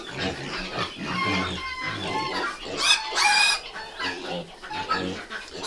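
A pig grunts and oinks among farm animals, with chickens clucking nearby, in a close, busy barnyard mix of short repeated calls and faint background voices.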